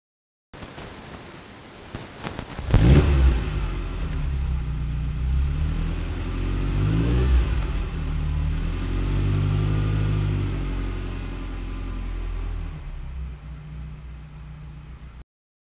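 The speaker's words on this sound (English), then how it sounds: "the entrancing sound of the carbureted V8 engine" A carbureted V8 engine of a Ferrari 308 GTB sports car starts with a sharp rev, then rumbles deep and steady, with a couple of throttle blips rising and falling before settling.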